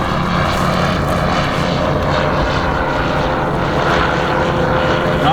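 Engine of a vintage tail-dragger propeller airplane with a big nose and sliding cockpit canopy at a vintage aircraft fly-in, a loud, steady droning roar held close throughout with no talk.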